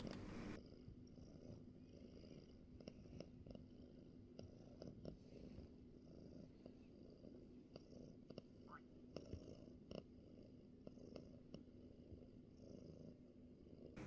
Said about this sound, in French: j'espère que vous entendrez les ronronnements.